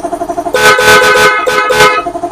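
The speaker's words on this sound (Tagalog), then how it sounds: "So testin po natin itong busina mga ka-idol." A Honda TMX 125 Alpha motorcycle horn sounds during a restoration test: four short, loud honks in quick succession, close up, with a faint engine or background hum before and after.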